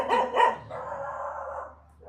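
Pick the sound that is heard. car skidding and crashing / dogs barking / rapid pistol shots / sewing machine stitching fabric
dogs barking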